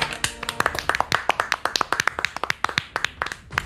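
A small group applauding a military-style training instructor: brisk, uneven hand claps close by, rattling on for several seconds without a break.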